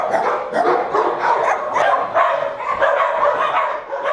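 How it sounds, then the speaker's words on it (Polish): Several dogs bark and yelp from kennel boxes in an animal shelter, a loud, continuous overlapping din of close barking with occasional whimpers. "z nieustannie szczekającymi sąsiadami"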